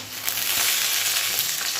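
Potatoes frying in oil in a pan give a steady, close sizzle with crackling bursts and a faint clink of a utensil, no voices.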